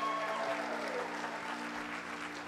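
Congregation at a church service applauding and cheering for a young girl called to the front, a steady broadband wash of clapping that holds at an even level throughout.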